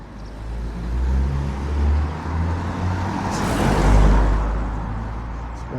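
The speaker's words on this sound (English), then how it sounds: "Let's wait for these cars to come past." Several cars drive past on a village road, a steady broadband rush of engines and tyres that swells as one nears and passes close by midway, with low engine rumble throughout.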